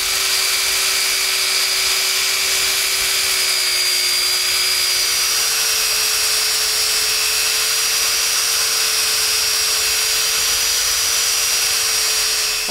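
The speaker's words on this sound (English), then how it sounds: "Now I'm just gonna sand that up and we'll be ready to flip this around." A wood piece spinning on a lathe is sanded, giving a steady, continuous whine and hiss with a constant high tone that runs unchanged from start to finish.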